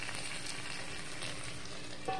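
Beans and peanuts fry in a pan, a steady close sizzle and crackle that runs without a break, with a brief clink near the end.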